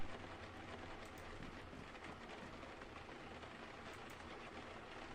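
Steady rain falls throughout a scene in the video game Unavowed, a constant even hiss of drops on surfaces with no voices.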